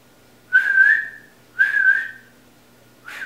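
A person whistles three separate notes, each a sustained, slightly wavering tone with short pauses between, clear and close.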